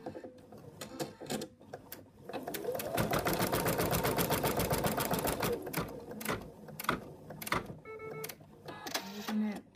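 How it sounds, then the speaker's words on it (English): An embroidery sewing machine stitches out the placement line for a monkey's ear in colour 11, a steady rapid mechanical needle chatter running loud through the middle, with quieter clicks and thumps of the machine before and after. "Color 11 is going to stitch out the placement for the ear."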